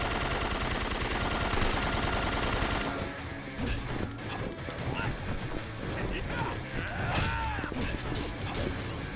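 Gunfire in the video game Yakuza 4, bursts of shots and impacts crashing over a dense mix of game noise, loud and close, with a voice talking alongside.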